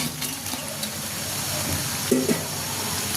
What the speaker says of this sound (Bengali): টমেটোগুলোকে হালকা একটু কষিয়ে নিয়েছি এখন দিয়ে দেবো ভেজে রাখা মাছগুলো